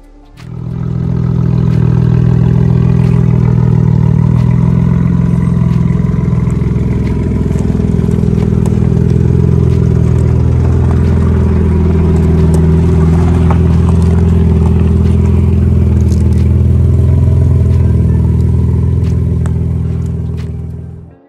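A Nissan Skyline R32 engine running rough idles loudly and close by, with a lumpy, uneven low rumble and some rattling, running steadily for a long stretch.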